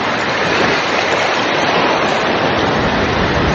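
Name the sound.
flowing water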